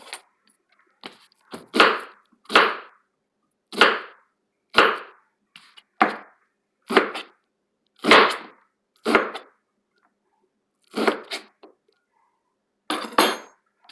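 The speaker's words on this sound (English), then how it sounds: "Now, we need to slice up an onion." A knife slices through an onion on a cutting board, giving about a dozen separate crisp chopping strokes in an irregular rhythm with short pauses between them. The cuts are close and fairly loud, with no talking.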